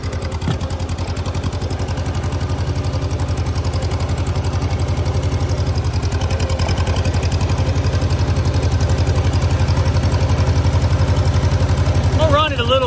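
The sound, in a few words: tractor engine running as implements are lowered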